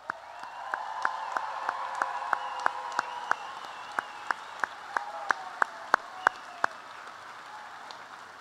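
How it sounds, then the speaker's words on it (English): Applause from an audience at a 2022 high school graduation ceremony, a steady, fairly quiet wash of clapping with sharp individual claps standing out near the front, gradually thinning toward the end. "Let's give them another big round of applause."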